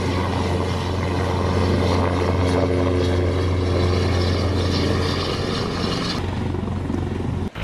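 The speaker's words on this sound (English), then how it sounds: "The Westland Wessex HAS-3." Westland Wessex HAS-3 helicopter flying at the 1966 Farnborough Airshow, a steady loud rotor and turbine drone with a low hum, holding constant before cutting off abruptly near the end.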